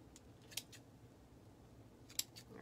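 Scissors trim a frayed ribbon on a spring bee wreath, two sharp, close snips about a second and a half apart in an otherwise quiet room.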